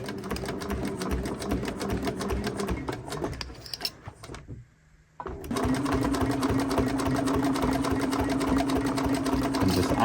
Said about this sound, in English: thread in the Consew 206 RB, the old mighty machine here